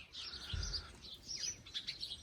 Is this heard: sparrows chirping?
yes